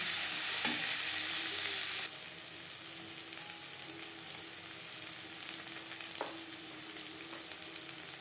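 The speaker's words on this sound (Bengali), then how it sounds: "পেঁয়াজ লালচে করে ভেজে নেব" Onion and slit green chilies fry in a pan with a steady broadband sizzle, louder for the first two seconds and then settling lower, with a few brief utensil scrapes near the end.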